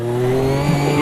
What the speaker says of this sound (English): Enjoy the sound of the Ginetta GT4 at Laguna Seca